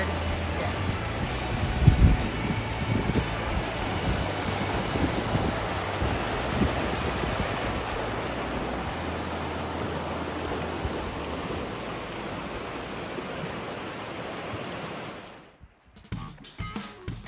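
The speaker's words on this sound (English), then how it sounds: "Breezy now." Steady breeze rushes through a forest campsite at Crater Lake, a broad continuous whoosh with gusty buffeting against the microphone, briefly cutting out near the end.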